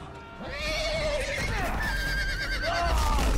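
A horse in the Telltale Game of Thrones video game whinnies loudly with wavering, rising and falling neighs over a busy action soundscape, with someone talking at the same time.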